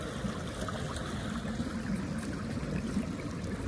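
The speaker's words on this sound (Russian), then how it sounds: "так вот здесь течет, это в районе актера. Нормально так течет." A park stream flows steadily at moderate distance, a continuous watery rush and trickle with no talking, near Miskhor in Crimea.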